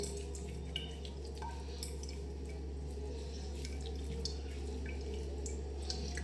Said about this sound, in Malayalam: കുറച്ച് വെള്ളം കൂടി ചേർത്തൊന്ന് മിക്സ് ചെയ്യാം വെള്ളം നല്ല ഫോഴ്സിലാണ്